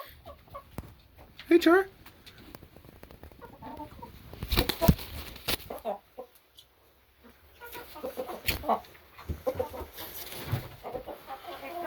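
Hens cluck and squawk in short, scattered bursts close by, with sharper cries early on and quieter stretches between, and a person speaks softly at times.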